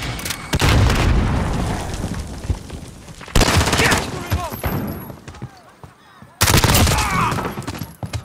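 Heavy gunfire in a military first-person shooter game, with loud sustained bursts and booms in three waves separated by brief quieter gaps carrying faint chatter and effects.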